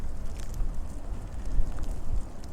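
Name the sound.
wind blowing outdoors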